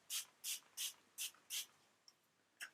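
Five quick, evenly spaced bursts of makeup setting spray hiss close up, followed by a pause and one more short spray, in an otherwise quiet room.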